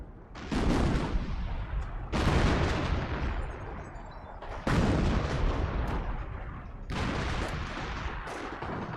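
Artillery barrage in the Company of Heroes strategy game, four heavy booming impacts a couple of seconds apart, each a loud crash with a long rumbling decay, no voices over them.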